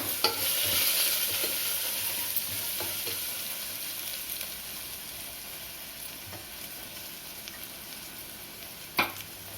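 A spoon stirs a biryani mixture of chicken fry pieces with mint and coriander in a hot pot, giving a steady close-up sizzle with scattered scraping clicks and one sharper knock near the end.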